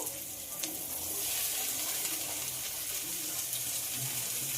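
Chopped potatoes fry in a pan with ginger garlic paste, giving a steady, close hiss of sizzling oil that continues without pause.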